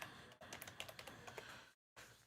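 Quiet typing on a computer keyboard at a LEGO build-challenge livestream desk, a steady run of soft clicks and key taps with a brief silent gap near the end.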